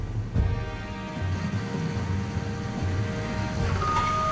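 A cartoon crane truck moves with a regular electronic reversing beep repeating at an even pace over a low engine drone, close and fairly loud.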